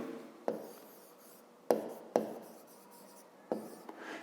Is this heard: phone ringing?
no